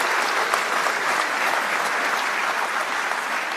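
Audience applause at the Moana Connect launch event in 2022, a dense, even roar of many people clapping together that stays steady and fairly loud from start to finish.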